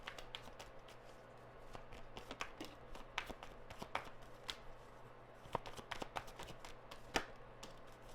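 Oracle cards being shuffled close up, a string of crisp, irregular riffling flicks and taps over several seconds, fairly quiet, with no talk.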